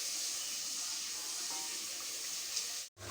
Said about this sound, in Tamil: இப்போ வந்து வெங்காயம் போட்டாச்சு. இப்போ நல்லா ப்ரௌன் கலரா ஆகுற மாதிரி நல்லா வதக்கிக்கணும்.